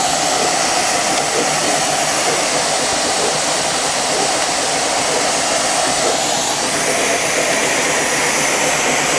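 A steam tractor engine at a Danish vintage machinery spring meet runs with a continuous, even hissing roar that holds steady throughout, loud and close with no voices.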